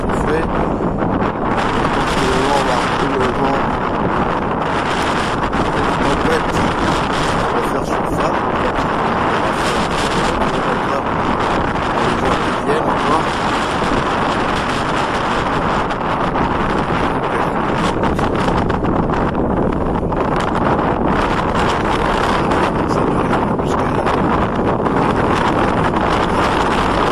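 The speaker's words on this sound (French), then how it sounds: "le vent commence à souffler" Steady, loud wind buffeting the microphone outdoors, a continuous rushing roar with no pauses.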